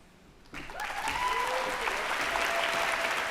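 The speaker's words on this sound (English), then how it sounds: "Let's give one more round of applause for the SGA team." A crowd breaks into sustained applause for the student government team at a student orientation event, the clapping kicking in abruptly after a brief quiet and staying loud and dense, with some cheering mixed in.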